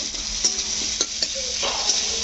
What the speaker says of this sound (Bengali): পেঁয়াজ কুচি দেওয়া হচ্ছে